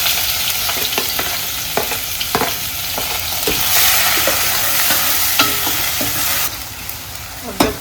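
Cumin, ginger, onion and garlic sizzle in hot oil for a tempering, a steady close fry with repeated sharp clinks and scrapes of a spoon stirring the pan.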